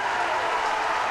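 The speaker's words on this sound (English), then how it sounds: "Ballinamallard applaud and celebrate with their friends and family, everyone who made the journey tonight." Steady crowd applause as Ballinamallard celebrate winning the Harry Cavan Youth Cup final with friends and family, a continuous even wash of clapping with no pauses.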